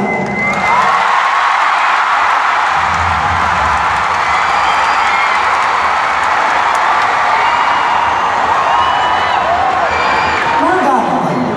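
Concert audience in a large echoing venue clapping, cheering and shouting, a dense continuous crowd roar at full loudness throughout.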